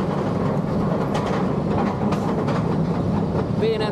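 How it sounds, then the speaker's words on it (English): Kumba, a B&M sit-down roller coaster at Busch Gardens Tampa, rumbles and clatters along its track in a continuous, loud roar heard close, with faint voices mixed in. "B&M sit down coaster this one."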